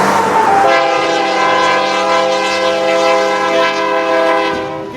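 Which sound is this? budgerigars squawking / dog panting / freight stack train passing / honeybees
freight stack train passing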